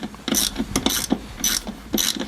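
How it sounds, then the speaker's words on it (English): A ratchet clicks in quick repeated strokes while tightening a clamp on a fuel filter, producing sharp rhythmic ratcheting bursts, close and clear. "We're just tightening the clamp up on the filter itself."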